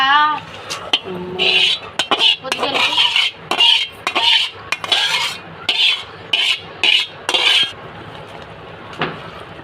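Amla pickle being mixed with plenty of oil in a metal bowl, making repeated wet squelching stirs and spoon scrapes against the bowl in an irregular rhythm, with brief speech at the start.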